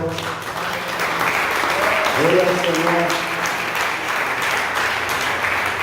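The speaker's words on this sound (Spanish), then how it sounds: "Un aplauso fuerte" A church congregation applauding steadily during a service, moderately loud, with a voice speaking over the clapping.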